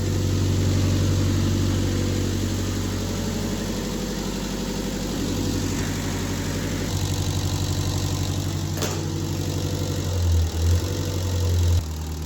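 A newly installed inboard boat engine with water flowing through its exhaust idles steadily, a loud, close, continuous low drone that barely changes over the stretch, with no voices.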